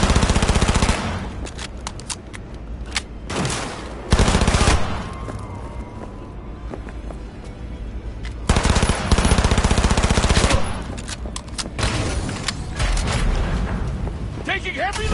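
Video game Cyberpunk 2077 gunfight with loud bursts of automatic machine gun fire in several long volleys, separated by quieter stretches, with booming impacts and voices shouting over the combat.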